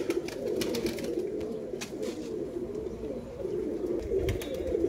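A pigeon loft in R.S. Pura, Jammu and Kashmir, filled with a continuous low cooing murmur from several pigeons close by, broken by occasional faint clicks and rustles.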